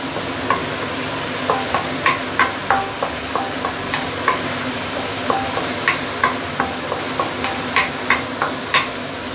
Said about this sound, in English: now I'm going to put in my chili paste. Belacan, okay, this is the star of the dish.